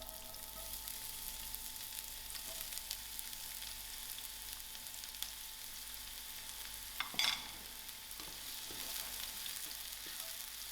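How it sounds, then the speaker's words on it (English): Onions frying in oil for egg fried rice, a steady broadband sizzle running the whole time, with one brief clatter of stirring near the end and no talking. "Allow these onions to fry a little."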